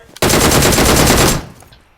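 An Uzi submachine gun fires one sustained automatic burst of about a second in PUBG Mobile, with loud, rapid, evenly spaced shots that cut off sharply and leave a short fading tail.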